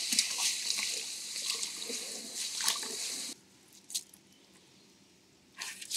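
Rice seeds are swirled by hand in water for seed treatment, a close, continuous watery sloshing and squishing that stops abruptly midway, then a faint splash and a short final swish.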